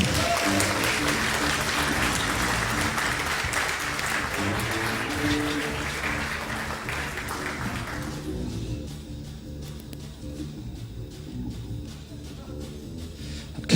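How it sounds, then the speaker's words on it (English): Audience applause at a concert, sustained steady clapping for most of the clip that thins and softens toward the end, with some background music or tones underneath. "Give Amelia a round of applause"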